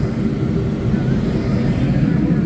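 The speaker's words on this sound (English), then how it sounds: "Y'all hear that loud noise? That's the propane heater." A propane heater in a workshop gives a loud, continuous roaring rush with a low rumble that holds steady and close throughout.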